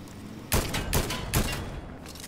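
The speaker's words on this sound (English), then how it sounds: "Who is shooting?" Gunfire in a video game comes in three loud, sharp bursts spaced about half a second apart, each with a quick trailing decay, and no talk over them.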